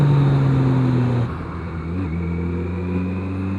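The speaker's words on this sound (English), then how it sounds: "Oh, more traffic." Road traffic heard from a riding motorcycle, the steady engine drone shifting as another vehicle passes close by, a continuous loud rumble throughout.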